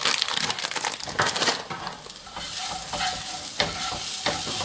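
Apple strudel filling is stirred in a pan as raisins are added, giving close, wet crackling, sizzling and squelching stirring sounds that continue throughout the clip without any speech.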